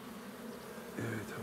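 Honeybees buzzing around a hive while a beekeeper works it with bare hands, a steady close drone with a louder, higher whine as a bee passes near.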